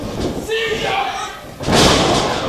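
A wrestler is slammed to the mat with a gut wrench during a pro wrestling match, a heavy thud landing loud under fast commentary and crowd noise.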